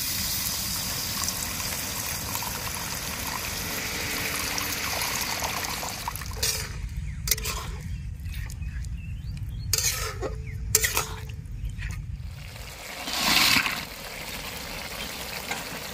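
Water pours and trickles into a pan of fish curry made with boroli fish, a steady liquid stream that breaks into clinks and stirring noises before settling again.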